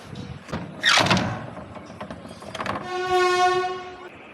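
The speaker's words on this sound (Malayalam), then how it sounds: "ട്രെയിൻ ഇങ്ങനെ പയ്യെ മൂവ് ആവുന്നത് ഒരു പ്രത്യേക" A train near Tuticorin moves slowly, rumbling and clanking nearby with metallic screeches, then a long horn blares toward the end.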